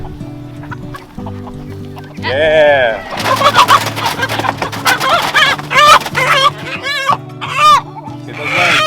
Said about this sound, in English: Got a rooster here.